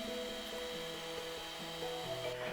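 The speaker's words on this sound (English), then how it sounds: "And now we are going to continue whisking until we have reached stiff peaks." An electric mixer whisks macaron meringue toward stiff peaks with a steady, close motor whine that shifts slightly in pitch as the beaters work through the mixture.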